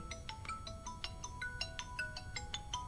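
A telephone ringtone plays a quick, bright repeating melody of short beeping notes, steady and fairly close, with no talk over it.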